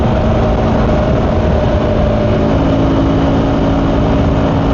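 A 2025 KTM Adventure 250 motorcycle on a highway ride, downshifting at about 6,000 RPM: a loud, steady engine drone mixed with heavy wind rush, continuous throughout with no talking.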